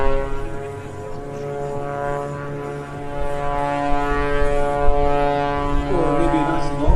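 An MXS-RH aerobatic plane hanging in a prop hover at the 2015 Rhode Island airshow at Quonset, its engine a loud, sustained droning buzz that swells slightly toward the end.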